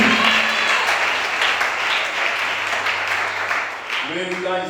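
Church congregation applauding at a worship service in Gabon, steady dense clapping from a crowd throughout, with voices mixed in beneath and a low hum.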